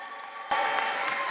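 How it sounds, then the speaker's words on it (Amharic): A congregation at a church service with a prophetic testimony breaks into clapping with some cheering, which begins abruptly after a short hush and continues as a brief, full crowd burst. "አጨብጭቡ ባካችሁ።"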